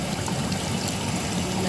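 Water pours steadily into a Kuppet twin tub washing machine, a continuous close rushing and splashing with no pauses and no talk.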